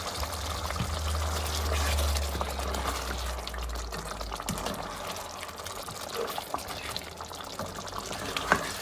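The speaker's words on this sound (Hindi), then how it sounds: "अब हम इसके अंदर उतना पानी डालेंगे जिसमें गोश्त जो है अच्छे से गल जाए" Water pours steadily into a cooking pot of mutton with turmeric and salt, a continuous splashing gush that thins toward the end, with faint clinks and no speech.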